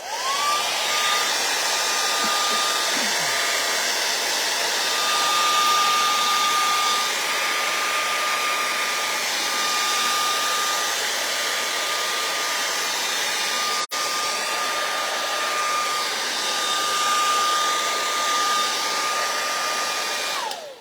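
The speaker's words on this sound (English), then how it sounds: "So we're going to go in and dry it a little bit." A hair dryer blowing on wet paint, a loud, steady whooshing drone with a constant whine that runs nearly unbroken for about twenty seconds, close up and with no talking.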